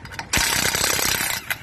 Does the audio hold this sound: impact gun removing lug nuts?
yes